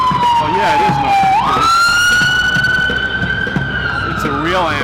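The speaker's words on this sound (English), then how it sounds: "It's a real ambulance." Ambulance siren wailing outside, a loud sustained tone that sweeps down then jumps up and holds, steady and close throughout, with faint background voices underneath.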